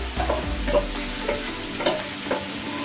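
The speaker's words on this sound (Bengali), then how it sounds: "এবার চিকেনগুলোকে আমি পুরোটা ঢেলে দিলাম" Chicken tipped into a hot aluminium pan with a little oil, giving a loud, even sizzle with a few stirring knocks over the brief stretch.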